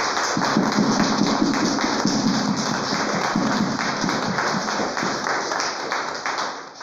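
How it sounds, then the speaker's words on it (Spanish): Congregation in a Catholic chapel applauding during Mass, a dense, sustained patter of many hands clapping at moderate volume, reverberant and steady, tapering off near the end. "Quiero que le demos un aplauso bien fuerte."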